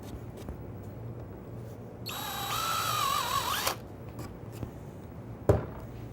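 A brief burst of power drilling a counterbore in wood with a brad point bit, about a second and a half, rises over quiet room noise, followed by a sharp knock.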